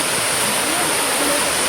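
Busay Falls waterfall rushes as a constant, loud, broadband roar of falling water, steady and unbroken throughout, with no voices.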